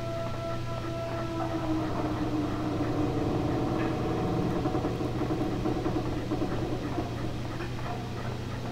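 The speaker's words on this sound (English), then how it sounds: "that haunting whirring of the airship as you navigate each corridor" A low, droning mechanical whirr of an airship in a video game hums steadily throughout, with faint clicks and tonal textures layered over the constant hum.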